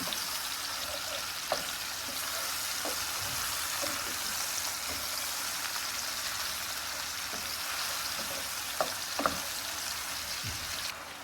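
Mushrooms sizzle steadily in a hot pan as they fry for a chicken dish, a dense continuous crackle with occasional clinks of a utensil stirring.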